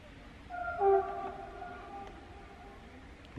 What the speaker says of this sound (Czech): Vlak jede.